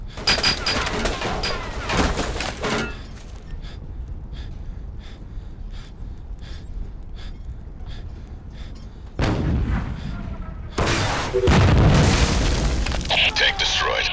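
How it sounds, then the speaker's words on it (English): A tank exploding in the video game Ghost Recon: heavy booms and cracking blasts at the start, quieter rhythmic thuds through the middle, then a renewed loud explosion and crackling debris, with voices heard among the blasts. "Tank destroyed."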